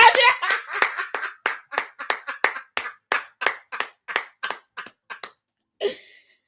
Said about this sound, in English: Y'all give Edie Marie a hand clap of praise up in here.